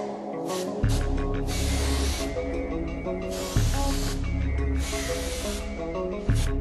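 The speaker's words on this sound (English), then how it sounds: "Spray sealant remover on the residue of the cylinder head." Sealant remover hisses from an aerosol can onto residue on a Mercedes-Benz M272/M273 cylinder head, in three long sustained bursts separated by short pauses.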